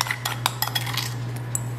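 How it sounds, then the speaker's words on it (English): A utensil spreads sticky bun filling over rolled-out two-ingredient dough, making light, scattered clinks and soft scrapes against a steady low hum. "Here is what our filling looks like. I'm going to add that right on top and then spread it out."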